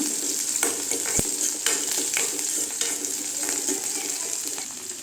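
Onions and chillies fry in a pan with a constant hissing sizzle, punctuated by occasional spoon scrapes and one sharp tap, heard close with no voices.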